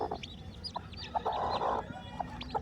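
Newly hatched Kadaknath chicks chirping in short, high peeps repeated irregularly nearby, with a louder clucking burst from a hen in the middle and faint background noise.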